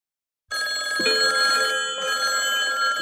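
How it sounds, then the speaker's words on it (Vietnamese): A cartoon telephone rings loudly after a moment of silence, a bright trilling bell that repeats with a short break in the middle, close and alone with no voices. "Không biết ai mà gọi điện thoại giờ này ta"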